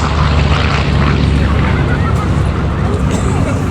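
A Wildcat fighter at a Duxford airshow tears past at very high speed, its engine a loud, close, continuous roar that fills the whole moment.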